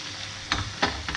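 Pork ribs frying in fish sauce in a pan give a steady sizzle, with a few brief bursts of stirring or spattering, fairly close and without talk.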